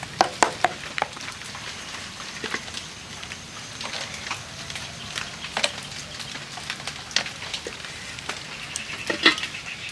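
Ripe palm pitha batter cooks in a pan with no oil, giving a steady soft sizzle and crackle that runs throughout, scattered with small pops and light clinks nearby.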